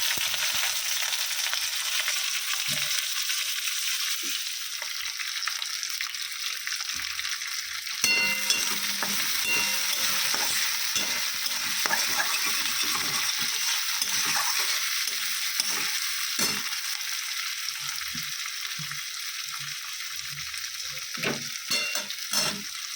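Cauliflower and potato curry frying in hot oil in a wok, a continuous close sizzle with bursts of crackling and occasional stirring scrapes throughout, no voices.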